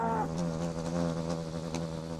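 Wasp buzzing nearby, a steady droning hum with layered harmonics that shifts slightly in pitch as it hovers, continuous and fairly quiet with no voices.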